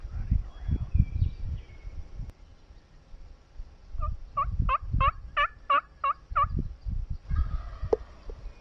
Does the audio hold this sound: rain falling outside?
no